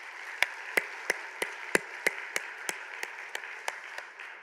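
A church congregation claps together in a steady, even beat, about a dozen sharp claps spaced evenly over a few seconds, fairly faint, over a soft background hum.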